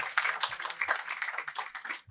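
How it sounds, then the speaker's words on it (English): An audience applauds two women on stage with a brisk, fairly close run of overlapping hand claps, steady and unbroken for a couple of seconds. "A round of applause for these two amazing, amazing women"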